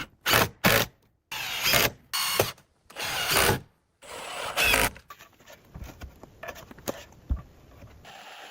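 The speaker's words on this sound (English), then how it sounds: "The craftsman is using a drill to install wooden trim or casing around the window" A power drill drives fasteners into wooden trim around a cabin window in short, loud whirring bursts, followed by quieter ratcheting and handling clatter.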